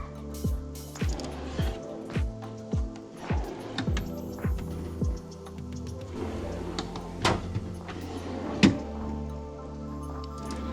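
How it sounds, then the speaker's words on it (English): Drawers of a new 262-piece JIMY tool chest are pulled open one after another, a steady run of metallic sliding rattles and clunks, close and fairly quiet, with no talk over them. "So there's key out, we'll open the drawers."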